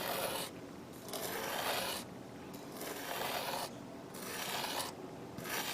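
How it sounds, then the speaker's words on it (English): A plastic model kit part for a Gundam Zowart build is rubbed back and forth on a flat 400 grit metal sanding surface. Four steady close rasping strokes, each about a second long, are separated by short pauses. "this is actually a perfect flat metal surface at 400 grit"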